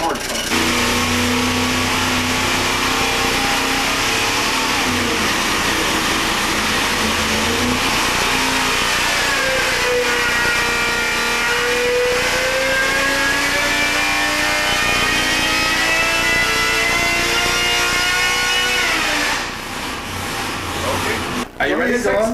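A salt-flats race car engine roars on a dyno in one sustained, loud pull, its pitch sliding up through the revs before cutting off at the end, with a voice faintly underneath.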